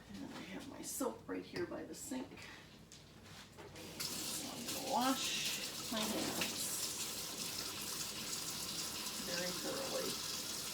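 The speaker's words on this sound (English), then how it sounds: "And now I'm going to wash my hands because I handled the meat." Tap water runs steadily while hands are washed after handling raw beef rump in a home kitchen, a continuous rushing hiss beginning partway through, with a person talking over the earlier part.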